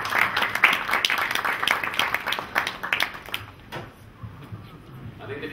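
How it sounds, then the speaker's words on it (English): Audience applause at an inaugural session, dense clapping for about three and a half seconds that then thins and fades to quiet room noise. "I think the claps are in groups."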